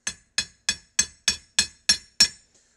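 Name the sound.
hammer dropped onto a pin of a Browning 1919 side plate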